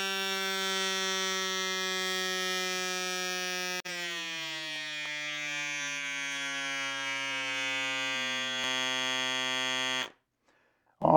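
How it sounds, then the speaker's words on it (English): A rechargeable bike pump inflates a completely flat tire toward 80 psi with a loud, steady, buzzing motor whine whose pitch sinks gradually as pressure builds, then cuts out abruptly near the end. "we're going to pump it up to 80 and see how long it takes"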